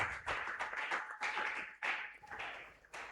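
A church congregation at a Pentecost worship service claps and cheers for the glory of Jesus, rapid uneven claps running steadily under voices, moderately loud throughout.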